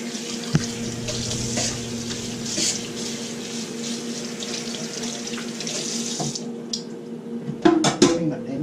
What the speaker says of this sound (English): Let's rinse my hands off.